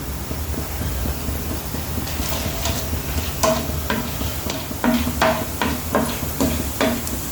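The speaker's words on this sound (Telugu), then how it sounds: "ఇప్పుడు కొంచెం అండి శనగపప్పు ఫ్రై చేసుకోండి" Chana dal frying in a pan for coconut chutney, with a steady low sizzle and repeated scraping stir strokes that grow more frequent toward the end, close and moderately loud, with no talking.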